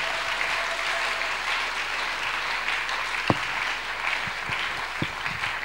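A church congregation applauds steadily during a sermon service, a dense continuous wash of clapping with a few sharper, louder claps standing out near the end.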